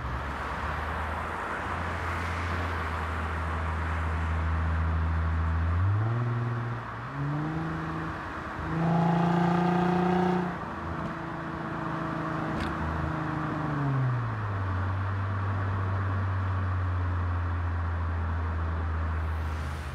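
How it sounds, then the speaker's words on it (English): A Lexus IS automatic in sport mode revs its engine up through a climb, then steps down through several quick downshifts with blips of rising pitch. The revs then settle back to a steady drone with road noise. "Again, multiple downshifts."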